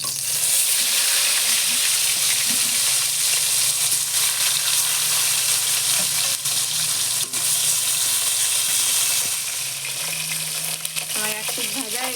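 Pieces of silver carp fish fry in hot oil in a pan, a loud, steady, close sizzle that runs without a break, with a few faint clinks and stirring sounds mixed in.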